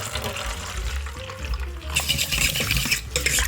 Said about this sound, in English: One cup of water.